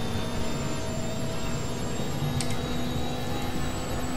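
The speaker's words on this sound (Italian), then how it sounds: "Il motore ha una progressione mostruosa, come potete sentire." A BMW 320 Turbo engine drones loudly and steadily, heard continuously from inside the car with a sustained tonal whine and no voices.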